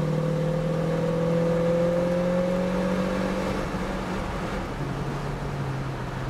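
A 1966 Ford Mustang accelerates hard on a road, its engine droning loudly from inside the car as the pitch climbs steadily, then drops with a gear change and settles at a lower tone.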